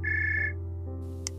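A telephone rings once in a quiet room: a steady, bright electronic trill lasts about half a second and then stops. A short click follows.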